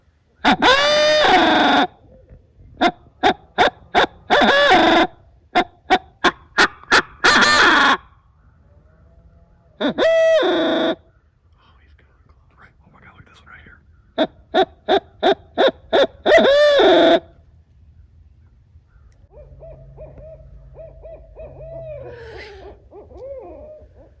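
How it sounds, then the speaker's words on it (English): Owl hooting during an opening-day turkey hunt, heard alongside loud repeated bursts of an owl call, rapid pulsing series separated by pauses, followed by quieter wavering hoots and faint murmuring talk toward the end. "we just called in an owl. 2 of them."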